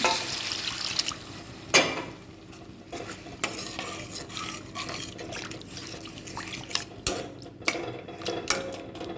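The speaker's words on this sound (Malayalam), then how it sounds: "നമുക്ക് പുളിവെള്ളം ഒഴിച്ച് കൊടുക്കുക" Tamarind water goes into a simmering fish curry, bringing a splash and sizzle followed by stirring, with occasional sharp clinks of a utensil against the pot, close and without voices.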